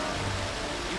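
Steady rain falls in the video game Битва империй: Стальные демоны, a continuous broadband hiss that stays even and close for the whole moment with no distinct drops standing out.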